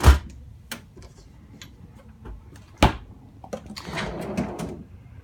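Fridge door in a 2019 Coachmen Chaparral 298RLS fifth-wheel RV being opened, with a sharp latch click at the start, light ticks and a clunk midway, then a rustling rattle of the door swinging and contents shifting nearby.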